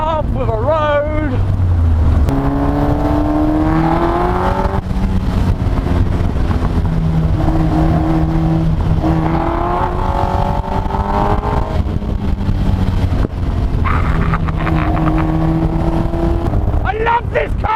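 A Westfield sports car driven with no windscreen, its engine droning and shifting through gears under heavy buffeting wind roar, loud and continuous, with a voice speaking over it.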